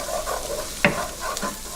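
Garlic sizzles in a hot pan on medium heat while a utensil stirs it, with a steady close frying hiss and one sharp scrape of the stirring partway through.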